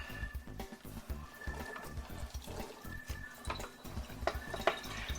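Cooked shepherd's pie filling being drained, a soft irregular trickle and dripping of liquid with faint clinks, close and fairly quiet, no talking.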